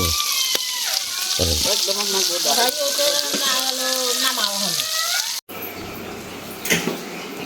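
Fish fries in a pan with a steady sizzle and hiss, while a voice talks over it throughout.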